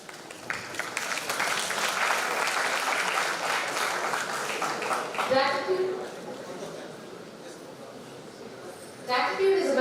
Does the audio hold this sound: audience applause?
yes